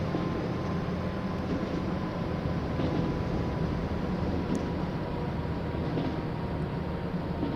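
Train slowing as it approaches a station in the Transport Fever game, a steady broadband rolling rumble at moderate, even loudness throughout.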